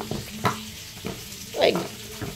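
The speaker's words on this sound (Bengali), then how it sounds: "এই দেখো মাছ ভাজা যখন হয়ে এসছে তখন এই যে পেঁয়াজটা দিয়েছি" Onions tossed into a pan of frying fish sizzle and spatter, with a louder hiss in the middle and softer stirring crackles around it, with faint talk in the background.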